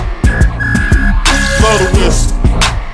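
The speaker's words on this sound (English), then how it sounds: "Blow the whistle." A high, sustained whistle tone runs through a slowed version of a hip-hop track, held over a heavy, booming bass beat and thick low-end drums.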